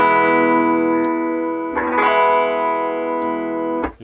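Bass guitar through the bass channel of a Fender Bassman 100 amp with the deep switch engaged, a loud sustained low chord with a couple of brief string clicks, ringing steadily before being cut off.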